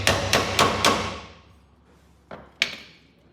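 A hammer strikes the metal-shanked screwdriver set in a brake screw on a Ford Courier, four sharp metallic blows in quick succession with ringing decay, then a pause and two more hits.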